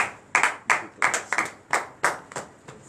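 Members of a congregation at a morning prayer service clap in a loose rhythm, about eight distinct sharp claps spaced roughly every third of a second, close and fairly clear with no voices.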